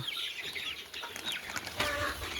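Chickens pecking at grass around a coop give off soft, scattered clucks at close range, mixed with light farmyard background noise and no talking.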